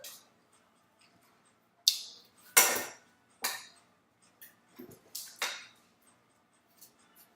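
Cooked noodles going back into a metal pot with olive oil while making Swedish meatballs, with scattered sharp clinks and scrapes of utensil against pot, some louder knocks and long quiet pauses between them.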